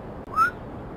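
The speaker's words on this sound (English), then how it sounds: "that whistle described everything" A person gives one short, clear whistle, rising slightly in pitch and lasting under a second, close and alone over a faint background hum.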